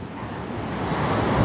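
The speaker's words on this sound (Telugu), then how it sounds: "ఫుల్గా వస్తున్నాయి అలలు" Sea waves surge at the shore in Salmiya, Kuwait, a steady broad rush of water heard alone for a brief moment.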